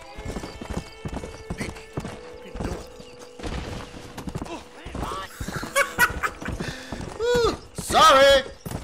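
Horse hooves clip-clop steadily through Red Dead Redemption gameplay, a rhythmic clatter that runs the whole time, joined by a neigh and some whinnying near the end while someone talks over it.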